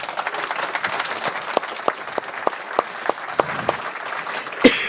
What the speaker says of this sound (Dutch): En dat vind ik echt wel een applaus waard ook.